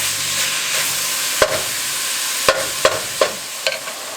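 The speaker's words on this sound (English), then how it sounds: "I'm just going to go ahead and keep stirring this up till it gets brown" Ground beef browning in a pan for beef stroganoff Hamburger Helper, giving a steady sizzle and hiss with several sharp scraping clacks of a utensil stirring at irregular intervals.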